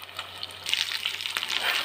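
Ginger garlic paste hits hot oil in a pan while making chicken pickle, a brief, close burst of crackling sizzle that swells louder partway through, with light stirring noise.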